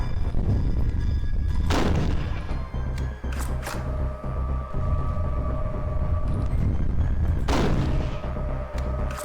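Gunfire in a scary video game: a dense, loud barrage of shots with two heavy booming blasts standing out, continuous and close throughout.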